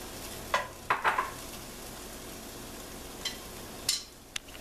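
Onions fry with browned ground meat in a pan, giving a steady background sizzle broken by several sharp stirring clinks and scrapes.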